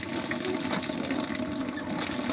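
Strong water gushes steadily from a resort's deep well pump, a dense, continuous rushing flow heard close up without pause.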